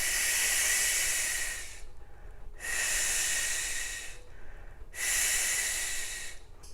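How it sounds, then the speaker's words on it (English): Air is pushed out through the mouth in three long, forceful hissing exhales, evenly spaced with quiet gaps between, close and steady like steam escaping, with no talking. "Pushing the air out of my mouth without moving my mouth."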